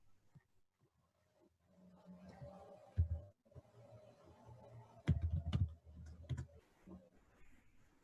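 Keys clatter on a computer keyboard in scattered bursts, with a few louder clustered strokes partway through, quiet and close with soft background noise.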